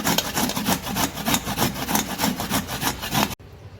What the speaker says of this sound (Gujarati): કોપરાને છીણી લઈશું આવી રીતે. બધા કોપરાને આપણે છીણી લઈશું.